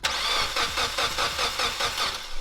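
A Mitsubishi Evo X, just fitted with a new turbo and exhaust, cranks in a brief, rapid rhythmic churn and catches, settling toward a rough running note.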